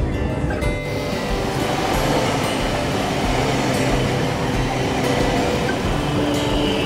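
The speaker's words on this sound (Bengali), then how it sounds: "ট্রেন চলে এসেছে, এই ট্রেন ধরে যাব এমজি রোড।" A Kolkata metro train arrives at the station with a dense, continuous roar and rumble that fills the space, steady and loud throughout, with no talk.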